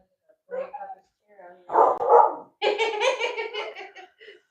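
A puppy named Kylo yips and barks in short close bursts indoors, with people talking and laughing around it.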